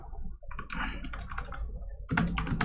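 Keystrokes clatter from a computer keyboard in quick irregular bursts, with a denser, louder run of clicks near the end, close and clear with no voices.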